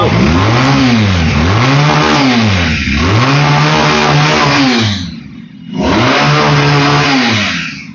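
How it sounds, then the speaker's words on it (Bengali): A Regal Raptor Fielder motorbike with a 190-section rear tire revs hard, its loud engine rising and falling in repeated throttle blips, with one brief drop near the end before the roar returns. "এটা কিন্তু আরিফ ভাই বাইকের সাউন্ড না"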